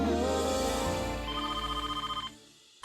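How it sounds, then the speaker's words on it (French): A telephone ringing in a kitchen, a loud close warbling electronic trill that pulses rapidly before cutting off abruptly near the end. "Ce téléphone aujourd'hui."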